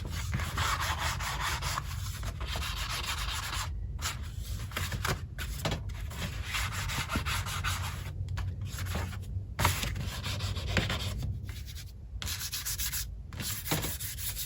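Continuous close scratchy rubbing as ink is dragged along the edge of a paper folder to distress it, steady strokes with a few short pauses, no voices.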